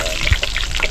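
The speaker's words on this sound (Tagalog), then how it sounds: "Haluin natin yung mantika." Cooking oil bubbling and crackling loudly in a pan as it is stirred, a close, dense sizzle lasting about a second.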